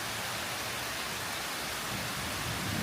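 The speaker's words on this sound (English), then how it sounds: "we're getting some really nice rain" Steady, moderate rain falls continuously in a dense, even hiss, close and unbroken, with no voices heard.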